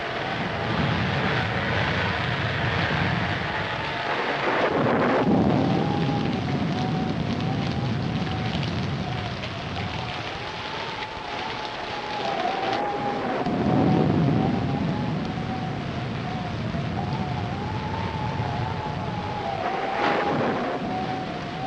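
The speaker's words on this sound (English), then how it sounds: "we'd better get out of here before this storm gets any worse." A heavy storm rages through a continuous roar of wind and rain, with a thin, wavering, howling whine drifting over it and gusts swelling and easing throughout.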